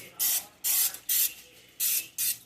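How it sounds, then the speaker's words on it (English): Pam cooking spray hisses onto a pan in five short, even bursts, each about a third of a second, close and fairly loud with brief quiet gaps between. "I'm going to spray the pan, some Pam."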